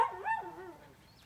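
A puppy gives a short, high whining yelp that bends up and down in pitch, then trails off; close and fairly clear.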